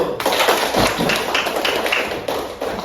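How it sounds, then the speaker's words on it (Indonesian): Schoolchildren in an Indonesian classroom clap their hands together in a steady, dense burst of applause that continues throughout, loud and close, with no distinct talking. "Tepuk tangan dulu."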